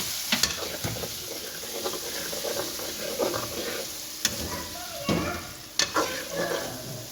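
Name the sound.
potatoes being stir-fried in a pan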